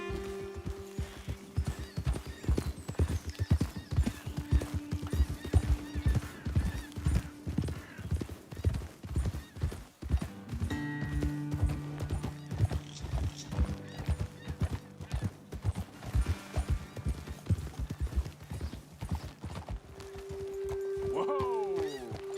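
Horses clip-clop steadily along a trail in Red Dead Redemption 2, their hoof beats close and rhythmic under game music, with a whinny toward the end and speech breaking in at times.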